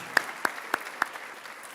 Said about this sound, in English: Let's give a round of applause for all of our fall